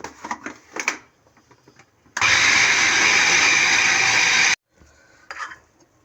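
An electric chopper whirs loudly for about two and a half seconds, chopping ingredients for restaurant-style chicken drumsticks. Light knocks and handling clatter come before and after the steady motor burst, all close up.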